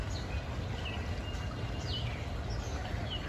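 Scattered faint bird chirps sound from a distance outdoors over a steady low rumble of background noise.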